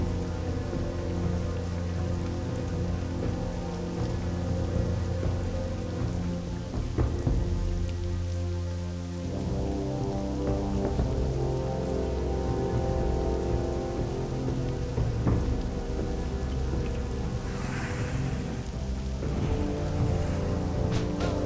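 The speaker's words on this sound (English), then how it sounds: "The rain was not here when we first came here, and then it started to rain." Steady rain falls in the World of Warcraft video game, a dense continuous patter that carries on throughout, with occasional low rumbles of thunder beneath it and no voices.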